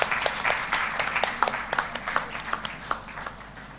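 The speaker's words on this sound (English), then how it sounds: "Please keep applauding for our wonderful speakers." Audience applause at a conference session, a steady wash of many hands clapping with sharp individual claps poking through, sustained and fairly close for the whole stretch.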